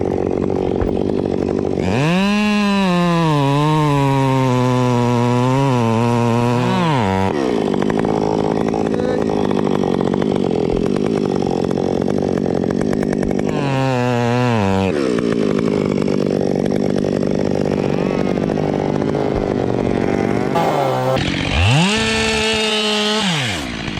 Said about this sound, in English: using a chainsaw to cut the tree trunk into neat pieces